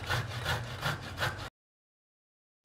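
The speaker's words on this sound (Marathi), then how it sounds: "सर्वप्रथम आपण खोबरे बारीक किसून घेऊया" Dry coconut is grated finely by hand with rhythmic rasping scrapes, about four strokes in steady succession, then a sudden silence before grating resumes briefly.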